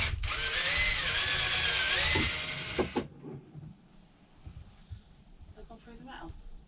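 A power drill bores through the metal of a narrowboat's garage door while fitting an Enfield lock, a loud high whine for about three seconds that stops abruptly, followed by quieter handling noises.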